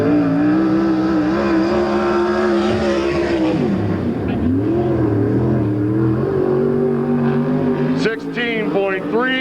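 Non-wing sprint car at Lincoln Speedway roars loudly through a lap, the engine pitch rising and falling with revving, then a sharp throttle surge near the end, while a track announcer talks over it.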